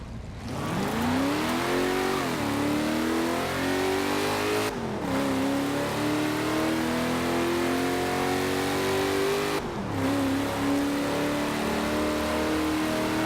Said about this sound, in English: There we go, that's the engine sound.